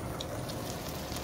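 Breaded pork and fish cutlets frying in oil, giving a dense, continuous sizzle and crackle at close range with no voices.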